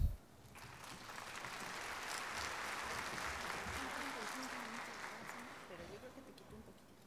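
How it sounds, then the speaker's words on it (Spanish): Audience applause at a medical talk on female sexual health, a soft, even patter of many hands that holds steady, faint and somewhat distant, with low voices mixed underneath. "para quienes pido un fuerte aplauso"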